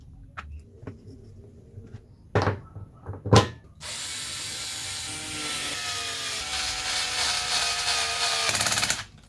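Parts of a cordless brushless three-speed angle grinder being reassembled, with a few sharp clicks and knocks of handling and then a sustained grinding, whirring rattle that runs for several seconds and stops abruptly, heard close and without talk.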